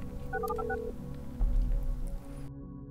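Telephone keypad tones beep in a quick sequence of short dialing tones in the video game Orwell, followed by a low rumble and a brief click before the line goes silent.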